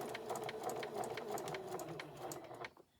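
A sewing machine back stitches on a small memory bear with a brisk, even run of stitches, close and clear, ending with a quick stop.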